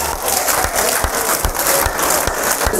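A seminar audience applauds with scattered cheers and shouts, many hands clapping in a thick, steady roar with a few sharper individual claps standing out near the listener.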